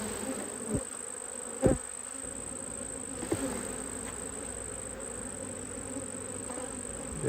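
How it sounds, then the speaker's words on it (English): Honey bees buzz steadily around opened hive boxes during a colony split, a continuous insect drone with a few soft knocks from handling frames. "Got to be making sure we shake these bees off if I don't see the queen."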